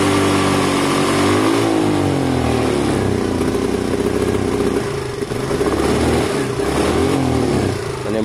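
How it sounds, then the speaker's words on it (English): A Sinnis Harrier 125cc motorcycle engine revs unevenly and steadily near the microphone, its pitch wavering up and down through the whole stretch with no talking. "Let's just see, we're still not revving properly."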